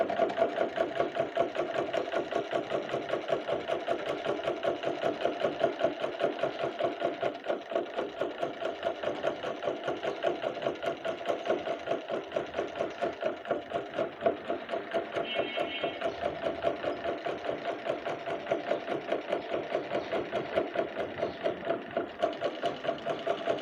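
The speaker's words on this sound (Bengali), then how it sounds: "এখন এই দাগ অনুসারে আমি সেলাই করে নেব।" A sewing machine runs continuously while stitching the side seams of a kameez, its rapid even needle chatter holding a steady mechanical rhythm for the whole stretch, close and alone.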